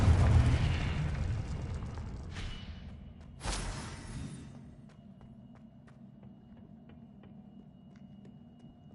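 A Confringo fire spell in the Hogwarts Legacy video game bursts as an explosive boom near the start, with a second sharp blast about three seconds in, then a fading crackling tail over low rumble.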